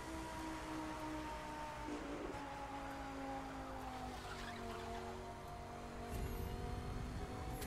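A car engine in the racing video game The Crew 2 hums faintly as the car drives fast, its pitch shifting gradually under low road and wind noise.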